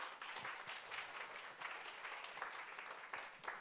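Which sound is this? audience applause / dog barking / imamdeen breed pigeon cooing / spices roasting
audience applause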